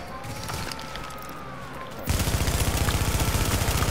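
Rapid gunfire from a video game, a rooftop manhunt at a gas station, bursts in as a dense stream of loud repeated shots after a quieter stretch of game ambience.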